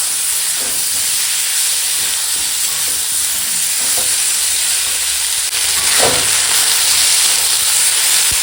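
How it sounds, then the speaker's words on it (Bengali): Vegetables stir-fry with ground ginger, garlic and cumin paste in a pan, giving a loud, steady hiss and sizzle with occasional scrapes of a spatula, close up. "দেখো এখন মশলার সঙ্গে একদম সবজি সুন্দর করে কষানো হয়ে গেছে"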